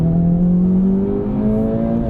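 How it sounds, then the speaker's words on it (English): Engine drone from a 2024 Acura Integra Type S on the move, a steady close hum with shifting tones as auto rev matching blips the revs between gears, heard from inside the car without talk. "Auto rev matching, this new system is so good."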